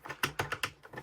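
A big clicky mode switch on a 2006 Fisher Price Quizard toy is flicked several times, giving a short run of sharp, close plastic clicks with no talk.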